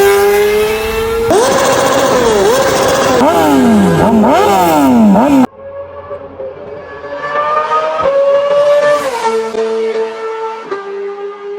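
Yamaha R6 sport motorcycle engine revs hard, screaming up toward its high redline in repeated rising and falling sweeps, loud and close, with a second sequence of sustained high revs after a brief cut.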